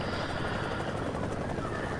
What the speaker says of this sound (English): So this is some helicopter gameplay